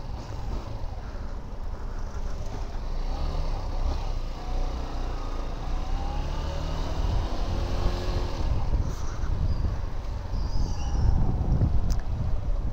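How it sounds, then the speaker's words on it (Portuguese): A Yamaha XTZ Crosser motorcycle ridden on a track, its engine droning steadily with rising and falling revs under heavy wind rumble, continuous and close throughout. "Primeira vez aí que eu tô pegando pista com a moto."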